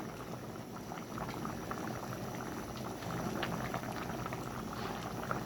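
A pot of spicy fish curry bubbles steadily at a full boil, a continuous close, moderately quiet burble of popping bubbles with no talking.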